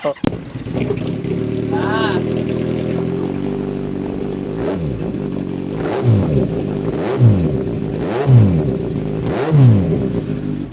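A 2016 naked motorcycle idles with a steady throb, then the engine is revved in four sharp, rising-and-falling blips close to the microphone.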